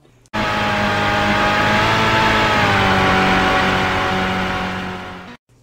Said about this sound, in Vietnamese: Động cơ xe hơi rú lên